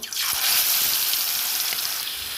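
Marinated chicken drops into hot mustard oil in a wok, setting off a sudden loud sizzle that holds as a steady, close, bright hiss and crackle, with no talk.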